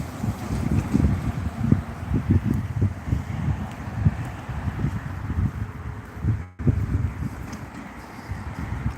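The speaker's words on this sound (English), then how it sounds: "Boy, that wind is kicking." Strong wind buffets outdoors in a steep hillside town, a continuous rough low roar with gusty surges and rumbling microphone buffeting throughout.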